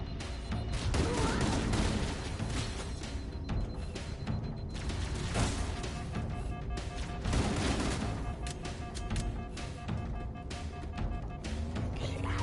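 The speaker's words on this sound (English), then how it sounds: "These grunts are just throwing grenades all over the place." Grenades thrown by Grunts burst during a chaotic firefight in the Halo campaign, a string of repeated booms and crackling blasts mixed with gunfire, fairly faint overall and running without pause across the stretch.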